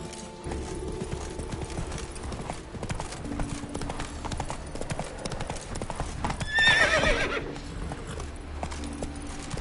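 Horse galloping in The Witcher 3 video game, rapid rhythmic hoofbeats over a music score, with a loud neigh partway through.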